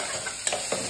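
Pepper root and taro frying in a pan, a steady close sizzle with a couple of brief stirring scrapes partway through.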